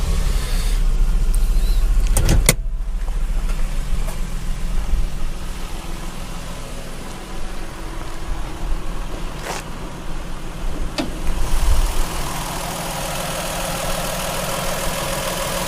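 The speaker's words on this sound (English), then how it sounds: "So it's really quiet, the motor." A 2000 Toyota Estima with a 3-litre V6 engine starts with a short loud burst and then settles into a steady, quiet idle nearby, broken only by a few brief clicks, with no one talking.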